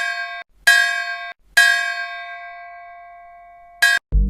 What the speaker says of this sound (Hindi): अचानक वो देखता है कि मंदिर का घंटा जोर जोर से बजने लगता है।